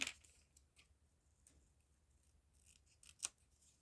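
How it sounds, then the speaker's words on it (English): Fussy cutting scissors trimming a scrappy masterboard journal card, a run of faint, quiet snips spaced irregularly, with one sharper, louder cut near the end. "give this one a trim. I think I'll use my fussy cutting scissors for this one."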